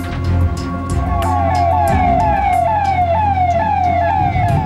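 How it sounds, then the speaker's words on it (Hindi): Police car sirens wail continuously through a city with rising and falling sweeps, layered over the low rumble of vehicle engines close by. "बीच बीच में शहर में सायरन बजाती पुलिस की गाड़ियां"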